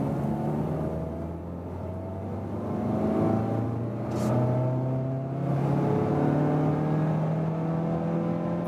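Mazda CX-30 with a manual gearbox pulling hard in second gear from about 30 km/h, the engine note climbing steadily in pitch and loudness over a constant road and wind roar, heard from inside the cabin with no talking.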